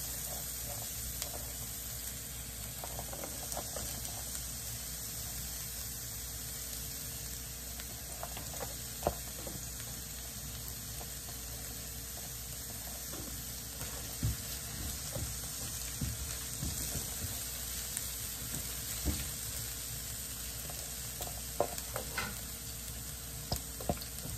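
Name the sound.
sautéing garlic in a pan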